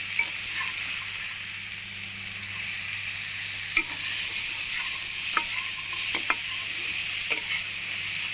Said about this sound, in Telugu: శనగలు ఇప్పుడు వీటిని ఇలా కలుపుకోవాలి